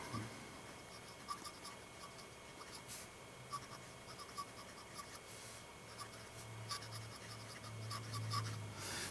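A 1920s Eclipse fountain pen with a 14 karat gold nib scratches softly across paper in a steady, close, faint writing texture of light strokes, heard alone without talk.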